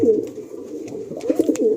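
Deep Kalsira breeding pigeons cooing up close in a pigeon loft, a steady low throaty coo with rhythmic pulses near the end, loud and clear with no talk over it.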